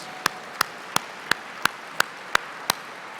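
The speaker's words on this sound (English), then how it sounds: "Let's give them a round of applause." At an adoption gala, eight crisp, evenly spaced claps sound at a steady slow rhythm over faint room noise, sparse rather than a full crowd.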